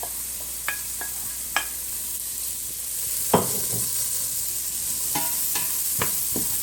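Vegetables for a shiitake potato leek soup sizzle steadily in a pan, a constant frying hiss broken by several sharp clacks and scrapes of stirring, close and without voices.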